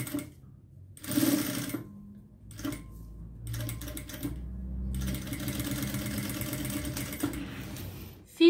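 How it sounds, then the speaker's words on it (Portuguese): Domestic sewing machine stitching a seam across a fabric flap on a small zippered pharmacy pouch, running in several close bursts of rapid mechanical whirring with brief pauses between, loud and alone without talk. "Então, eu vou passar a costura bem aqui em cima desta aba."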